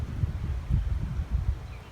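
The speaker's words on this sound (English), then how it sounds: "It's a little windy" Steady low wind rumbles and buffets outdoors, with gusty gentle noise and no voices.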